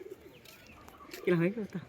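A held pigeon with feathered, gathered feet gives a short, loud burst of throaty cooing toward the end, after a quieter stretch of low background murmur.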